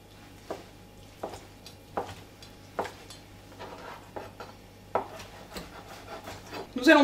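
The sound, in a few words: chopping seitan with a knife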